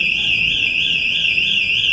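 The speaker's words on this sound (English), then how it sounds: "There's an alarm going off in here." Indoor fire alarm in a New York City building, a loud continuous electronic tone that warbles rapidly and steadily without a break.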